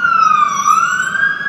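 A loud, close emergency siren from FDNY fire trucks and NYPD cruisers responding in New York City on Thanksgiving Day sweeps down and back up in a wailing tone, with no voices.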